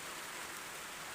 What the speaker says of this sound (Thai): ฝนยังตกอยู่